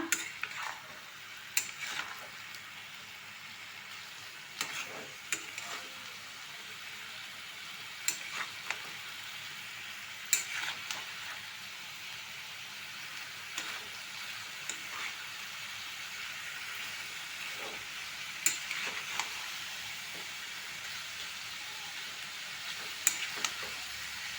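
Ginger paste fries in oil with salt, turmeric and chilli powder, giving a steady hiss of sizzling throughout and occasional light scrapes and taps of a spoon stirring the pan, with no talking.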